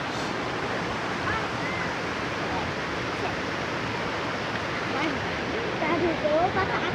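Waterfall at Tawangmangu, a steady broad rushing roar of falling water filling the whole stretch, with faint voices in the background near the end.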